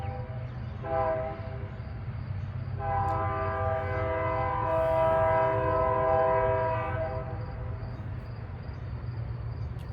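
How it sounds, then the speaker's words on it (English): A train rumbles past outdoors with a long, loud horn blast sustained through the middle, low engine noise underneath throughout. "God, this train."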